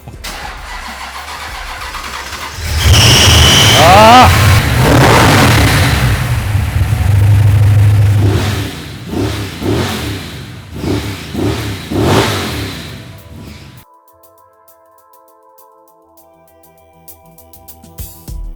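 A car engine fitted with a newly installed nitrous system cranks and fires up loudly nearby, then revs a few times, idles roughly while warming up and is shut off, leaving near silence with no talk.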